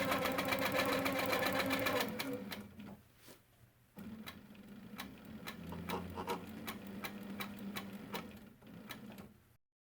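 A sewing machine doing free-motion quilting along a ruler foot on a double arch border, running in fast, close rattling bursts that pause briefly and then resume at a slightly lower, steadier pace.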